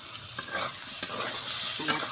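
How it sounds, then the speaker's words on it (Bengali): Spices, pointed gourd, potato and onion sautéing in a pan with ginger, garlic, green chili and cumin pastes, a steady close sizzle broken by a few scraping stirs, no talk. "মশলাগুলা, পটল আলুগুলা, পেঁয়াজ সব কষানো হয়ে গিয়েছে, লাল হয়ে গিয়েছে"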